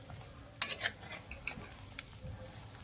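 Chicken pieces coated in ginger and garlic get stirred in a pan for pickle, with scraping spoon strokes and soft clinks over a faint low sizzle, heard close and fairly quiet.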